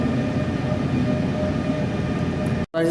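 A steady, loud rumbling roar like a train rolling past fills the clip, then drops out suddenly near the end.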